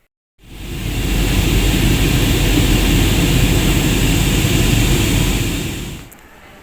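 An airplane at the airport before boarding gives a loud, steady broadband roar that holds for about six seconds and then fades out.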